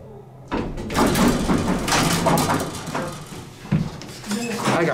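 Rough doors on a vintage 1960s Otis Lexan traction elevator in Montreal slide and thud, loud and close, with people talking nearby.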